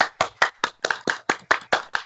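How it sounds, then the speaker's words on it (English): A small group clapping from the wings of a stage play, about ten distinct, evenly paced hand claps, close and crisp with nothing else heard. "There is a little flutter of hand clapping from the wings."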